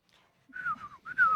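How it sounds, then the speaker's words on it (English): A man in the film The Lawnmower Man whistles at birds with two short, bright, falling whistled notes, close and clear, the second one louder. "He's whistling at birds, and the bird seems to whistle back"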